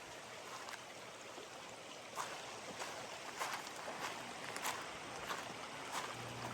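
Water of a small stream flowing steadily down toward a bay at Deep Water Bay near Whittier, Alaska, a continuous broadband rush with a few brief splashy bursts, moderately close and with no talk.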